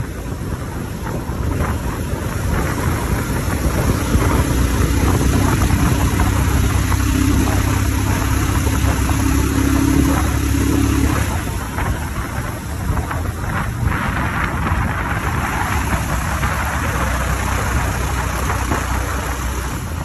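A motorcycle engine runs steadily at a low idle, close by, with a rougher, louder stretch in the middle before settling back.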